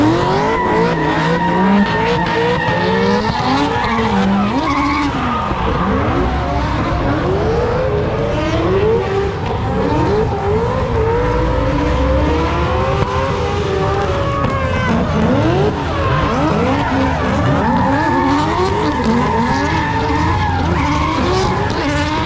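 Cars drifting one after another at a drift event, their tires skidding and squealing over continuous engine roar, loud and relentless throughout.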